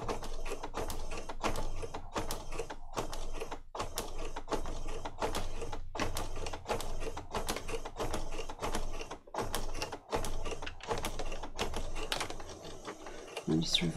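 A sewing machine with a fairly blunt needle stitches through a Little Golden Book, giving a long run of rapid mechanical clatter in short bursts with brief pauses, close and loud, while a voice talks over parts of it.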